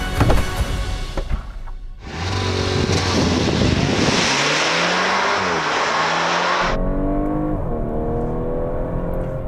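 A 2017 Audi A5 Sportback 2.0 TFSI quattro with S tronic pulls away hard, its two-litre turbo engine roaring loudly and climbing through several revs and gear changes, heard close and steady after a brief quieter start.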